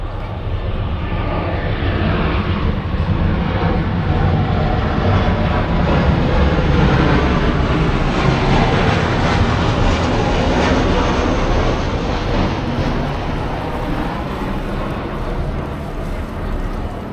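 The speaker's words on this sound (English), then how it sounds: "there's a jet coming in over the top" A jet aircraft passes overhead with a broad, steady roar that swells and holds loud for many seconds before easing slightly, with no talk over it.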